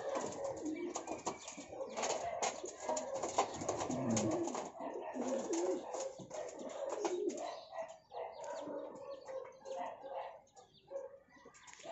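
Young pigeons coo softly at close range in a loft, with scattered chirps and brief wing flutters over a steady background, while a person talks intermittently.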